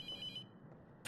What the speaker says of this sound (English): Answer the phone, you prick.